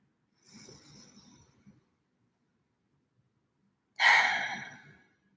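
Slow, deep breathing during a guided loving-kindness meditation: a soft, drawn-out inhale lasting about a second, a pause of silence, then a louder, sighing exhale close to the microphone that fades away, with no talking.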